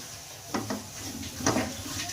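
A spoon scrapes and knocks against a pan while a sweet dessert mixture is roasted and stirred in ghee, giving a few short, close metallic strokes over a quiet background.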